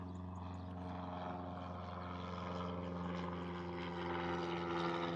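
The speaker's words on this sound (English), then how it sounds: "excuse the plane flying above" A propeller airplane flies overhead near an airport, its steady, loud engine drone rumbling continuously and swelling slightly toward the end, with no talking.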